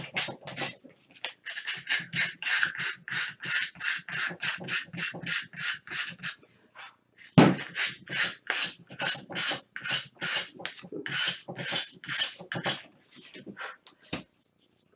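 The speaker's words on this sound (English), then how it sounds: "we're just going to do some distressing around the piece" Sandpaper or a rasp rubbing along the edges of a wooden wreath stand to distress it, a steady series of quick, close scraping strokes with one brief pause midway.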